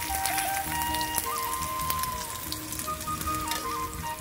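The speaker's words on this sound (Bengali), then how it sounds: "আমি আলুটাকেও ভেজে নেব, বেশি আঁচ দিলে পুড়ে যাবে" Potatoes fry in hot oil in a pan with a continuous crackling sizzle and fine popping, like steady rain, close and fairly loud with no talking.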